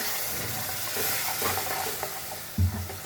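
Spices for rajma masala frying in a pan as water from a rinsed jug goes in, a soft sizzle with stirring and a brief louder splash near the end.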